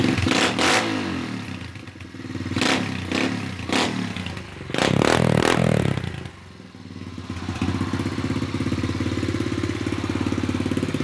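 A 2013 SSR 125 pit bike engine, heard close up: a few sharp revs rise and fall early on, then it settles into a steady, loud, buzzing idle that runs to the end.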